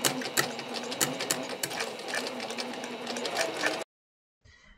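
A domestic sewing machine quilting with invisible thread runs at a steady, rapid stitching rhythm close up for several seconds, then stops abruptly, followed by a faint brief rustle.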